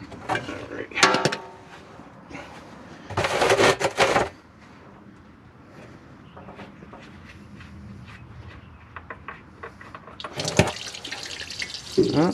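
Engine oil runs out of a semi truck's drain after the plug is pulled, a steady liquid trickle and splatter close by, broken by bursts of metallic clanks and handling noise.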